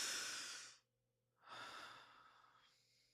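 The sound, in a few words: deep breath taken during a guided exercise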